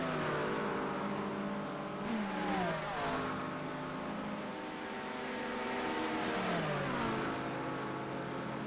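GT3 race cars in a racing video game lap Watkins Glen, their engines droning loud and continuous with rising and falling pitch as they shift and accelerate, and one car sweeps past.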